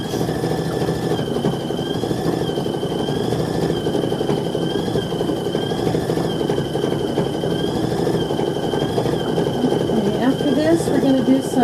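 A sewing machine stitches quilting lines around a fabric wreath for a petit-fours sew-along quilt, giving a steady, even motor whir that runs unbroken and close throughout.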